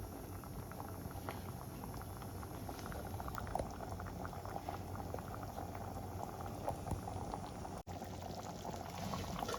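Curry broth boiling in a pan: a continuous, close bubbling and gurgling with small popping bursts, steady and fairly quiet, with one brief dropout and no voices.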